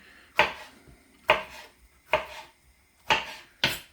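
Vegetables being chopped on a board with a knife, five crisp, evenly spaced thuds close up and fairly loud, alone with no talking.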